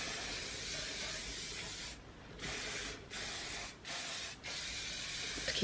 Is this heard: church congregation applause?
no